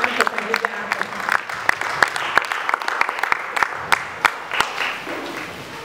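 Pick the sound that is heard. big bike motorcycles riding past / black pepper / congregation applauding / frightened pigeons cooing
congregation applauding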